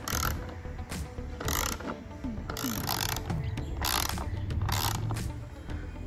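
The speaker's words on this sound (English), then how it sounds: "We'll need a 13 millimeter socket to loosen this bolt and the one on the opposite side." A ratchet with a 13 mm socket loosens a seat bolt on a Porsche 992 GT3, giving bursts of rapid clicking in several separate runs with short pauses between, close and fairly loud, without speech.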